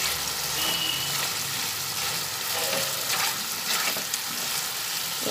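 Spice paste and potatoes fry together in a pan for papad kalia, giving a dense, continuous sizzle and crackle, close and fairly loud, with faint scraping from stirring mixed in.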